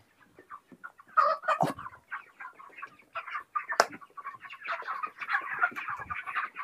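Chickens on a poultry farm, full-grown contract-farmed birds, cluck and squawk in a dense chorus, with a sharp louder squawk midway and steady overlapping calls that build toward the end.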